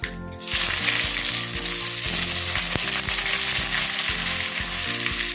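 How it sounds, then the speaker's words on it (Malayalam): Finely chopped shallots go into hot oil with popped mustard seeds for a fish curry and sizzle loudly and steadily with a constant close hiss, with no talking. "കുറച്ച് ചുമന്നുള്ളി ചെറുതായിട്ട് അരിഞ്ഞിട്ട് ഇട്ട് കൊടുക്കാം"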